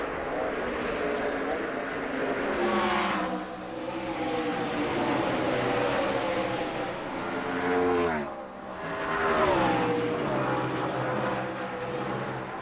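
NASCAR race cars roar past on the Watkins Glen road course, loud engine notes rising and falling as they sweep by in several passes, with a brief dip between cars.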